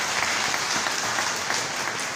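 Congregation applauding at a requiem mass for an archbishop, steady dense clapping throughout, moderately loud and even with no voices over it.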